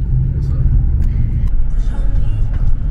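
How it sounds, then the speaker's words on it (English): Inside a car on the road, a steady low engine and road rumble fills the cabin, with brief thumps and light movement noises on top, close and continuous. "we're in the car on the way to the thrift store"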